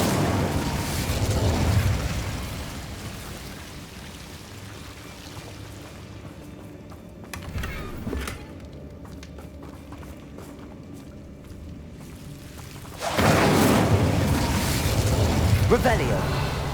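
Fire spell bursts in Hogwarts Legacy, a loud whooshing roar at the start, a brief flare near the middle and another heavy fiery surge near the end, with game sounds and speech in between.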